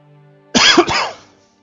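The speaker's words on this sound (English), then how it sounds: "I've been having this really bad cough" A single harsh cough, loud and close, from someone with a lingering bad cough, two quick bursts in one fit against a quiet room.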